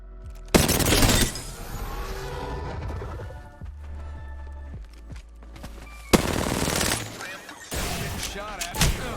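Gunfire in the video game Apex Legends comes in two loud, sustained bursts of rapid automatic shots, each followed by clattering effects and quieter game sounds in between.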